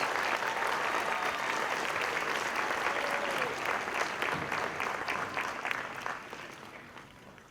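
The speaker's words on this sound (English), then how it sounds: "let's give them another round of applause as they leave the stage" Warm applause from a graduation ceremony audience in Mackay as graduates leave the stage, a dense sustained clapping that gradually tapers off toward the end.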